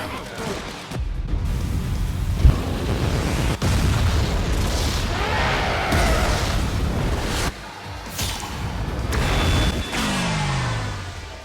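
A soul bomb special attack in a Bleach video game, a long roaring wave of booming explosions and rumbling bursts with a brief drop midway before a final surge, loud and dense.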